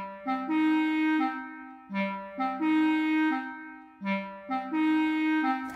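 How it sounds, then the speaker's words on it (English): A clarinet plays a smooth, close melodic line alone, its phrases rising and falling in three repeating swells with no talking. "That was the sound of the clarinet."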